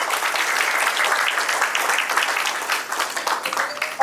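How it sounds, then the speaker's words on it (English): Audience at an IMA Ulwe branch inauguration ceremony applauds to welcome the guest of honor, a lively sustained burst of many hands clapping with individual claps standing out as it thins toward the end. "We would like to welcome our guest of honor with big round of applause."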